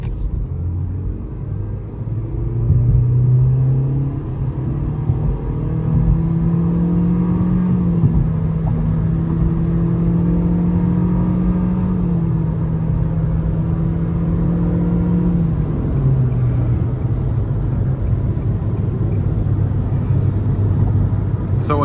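A 2023 Nissan Versa SR with a 1.6-litre four-cylinder pulls hard onto the interstate, engine drone climbing in pitch through the gears with a brief dip at a shift, heard from inside the cabin over steady road rumble.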